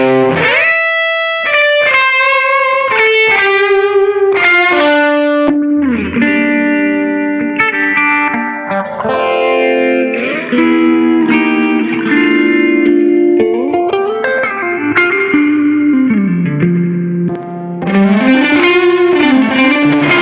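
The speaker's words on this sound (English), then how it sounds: "if I go to the next sound, which is the guitar hook" Electric guitar hook played through a full pedalboard, with distorted, chorused tones, reverb and pitch-bending sweeps, loud and continuous with no voice.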